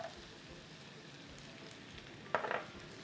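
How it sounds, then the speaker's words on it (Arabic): Thin slices from four garlic cloves fry in hot olive oil, a steady soft sizzle throughout with a brief sharper crackle burst near the end, close and fairly quiet with no talking. "اول ما الدنيا تسخن هروح نازله باربع فصوص ثوم متقطعين شرايح رفيعه"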